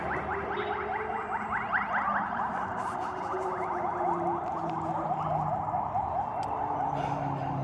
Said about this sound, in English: that sound is what's called an ambulance